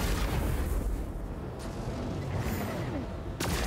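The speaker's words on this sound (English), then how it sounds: "he dropped his bombs as I started firing" Bombs exploding in the video game Chorus, a dense, rumbling roar of blasts and booming impacts that stays loud throughout, with a couple of sharper bursts near the middle and end.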